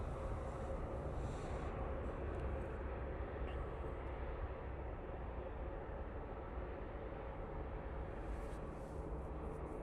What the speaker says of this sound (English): that Aer Lingus is on a short final behind it